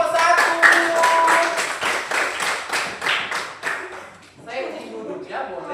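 Students in a classroom give applause for a student group: a burst of many hands clapping in quick, dense rhythm that fades after a few seconds, with voices mixed in over it.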